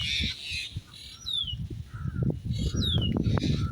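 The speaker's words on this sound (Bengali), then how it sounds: "ওই দেখুন ওই স্বজনরা তার চিৎকার করতেছে তার আশেপাশে" Myna birds squawk and chatter harshly in a flock near another myna caught in a net over waterlogged farmland. The loud, close calls repeat in short bursts, with no talking.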